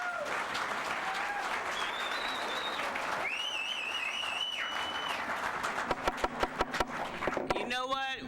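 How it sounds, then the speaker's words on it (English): A meeting crowd at a board of education session applauds, sustained clapping under whistles and raised voices, ending in a few sharper individual claps. "I would ask that you please hold your applause"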